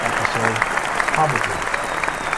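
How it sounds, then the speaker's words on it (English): Crowd applause, moderately loud and steady clapping with voices talking over it. "applause for Peter Brady from the Brady Bunch"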